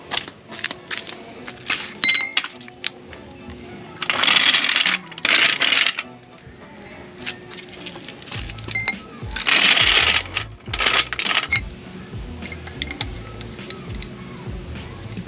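A hydraulic car floor jack being tested after repair: irregular metallic clicks, clanks and rattling bursts from pumping, close and moderately loud, with no talk.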